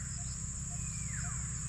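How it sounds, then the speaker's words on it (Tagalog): Birds call outdoors in faint, brief chirps, including a short descending whistle, over a steady high insect-like drone and low background hum, with no talk. "ang ganda po ng mga huni ng ibon dito mga utol"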